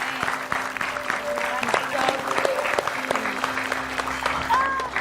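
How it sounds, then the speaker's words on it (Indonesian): An audience on a Mother's Day show claps for Tante Yani, a steady round of applause with some voices and a faint tone running beneath it. "Kasih tepuk tangan dong untuk Tante Yani"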